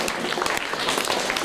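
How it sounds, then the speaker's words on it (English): Audience at a job fair recruitment event applauding for Sarwar sir, a dense steady wash of clapping filling the short moment without a break. "Clap for the Sarwar sir"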